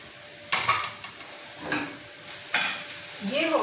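Butter tadka for dhaba-style fried mash dal sizzles in a pan while being stirred, with a soft constant fry hiss broken by several scraping strokes of a spoon against the metal, close and moderately loud, no talking.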